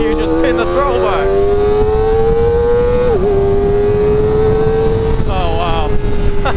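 A 2024 Kawasaki Ninja ZX-4RR engine revving hard at full throttle, a high, rising whine climbing through the gears with a brief dip at a shift, close and loud over wind rush.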